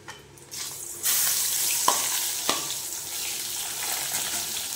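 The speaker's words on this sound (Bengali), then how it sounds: "বন্ধুরা, এবার এর মধ্যে দিয়ে দেবো এই ভাজা সিমগুলো।" Fried flat beans tipped into hot oil with five-spice tempering, a loud sizzle surging up after a second and holding steady, with a couple of sharp spatula scrapes as they are stirred.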